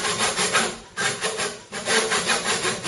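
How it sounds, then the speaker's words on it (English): Close hand sawing through wood as a turned grass tree bowl is cut off, quick rhythmic strokes, a rasping back-and-forth with two brief pauses. "Now I'm going to gently rotate the bowl as I saw it off."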